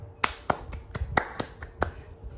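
A classroom of students claps in a sparse, ragged way during a teaching session, sounding like six or seven separate sharp claps spread unevenly across a couple of seconds at fairly low level.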